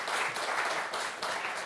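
Studio audience applause on a French TV game show, Motus, a steady dense clapping that fills the whole short stretch at moderate loudness with no talk over it.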